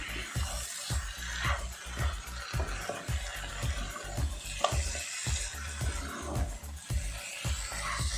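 A spoon stirs a goat head curry in a pan, scraping and knocking in a steady rhythm over a low sizzle. The sound is close and moderately loud.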